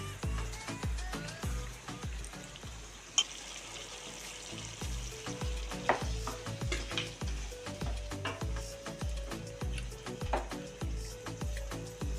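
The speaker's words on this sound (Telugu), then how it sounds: "ఇప్పుడు దోసకాయ ముక్కలు వేసుకొని కలిపించుకున్నాం" Cucumber pieces are stirred into a mutton curry in a pan, the steady sizzle of frying carried under repeated close scraping and clicking of the spoon against the pan.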